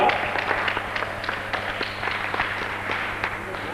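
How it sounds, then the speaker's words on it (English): Steady, crowded clapping rises for a speaker at a silver jubilee alumni gathering, with many hands patting quickly and a low hum and faint voices underneath. "Give him a big clap."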